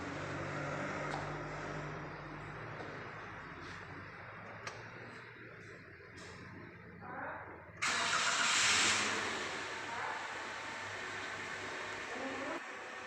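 A car engine cranks and fires up during an exhaust emission check at a vocational school workshop, then settles into a steady idle beneath constant background hiss and noise.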